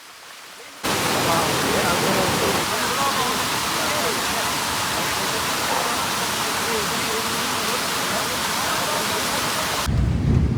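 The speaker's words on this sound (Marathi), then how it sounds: "पूर्ण ओढ्याचं पाणी वगैरे भरलेलं आहे." Heavy monsoon rain and a swollen, fast-flowing stream near Devkund waterfall in Maharashtra make a loud, steady broadband roar that starts suddenly and continues without a break.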